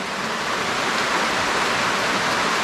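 Steady, dense rain pours down on an outdoor rural cookout with a roasting pig, a constant hiss of drops with no pauses.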